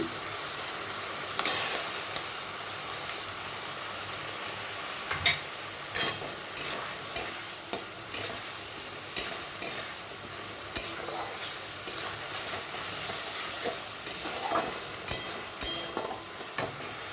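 Ghee spread in a pan for a sweetened prawn curry with potato and cauliflower, with a soft sizzle under repeated clinks and scrapes of a stirring spoon.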